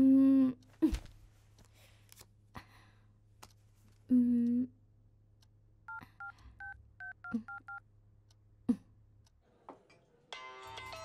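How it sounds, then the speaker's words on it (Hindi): A telephone rings with short bursts of repeated electronic beeping tones, surrounded by sharp clicks and brief voice fragments. "इस वक्त किसका फोन है?"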